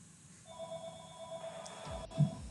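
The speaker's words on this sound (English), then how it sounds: "And the phone is ringing again." A telephone rings in a room with a steady electronic ringtone of repeated tones, moderately loud and heard alone with no talking.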